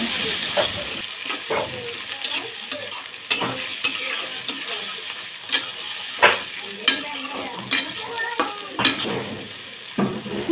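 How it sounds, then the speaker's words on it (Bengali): Green chilli and tomato fry in hot oil with bay leaf, cardamom and cinnamon for chicken khichuri, a bright continuous sizzle with frequent close spatula scrapes and taps as the pan is stirred. "টমেটো দিয়ে ভালো মতো ভেজে নেব"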